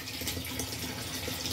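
A tap runs steadily into a half-filled water tank on a cold day, making a continuous close rush and splash that lasts throughout with no talking.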